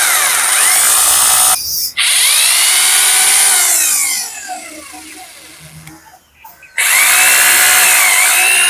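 A Boray hammer drill runs loud and steady in bursts, its whine cutting out briefly near two seconds, dropping quieter mid-clip, then surging back at full speed; no one speaks.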